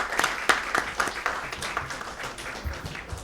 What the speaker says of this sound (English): give them all a big round of applause for all their hard work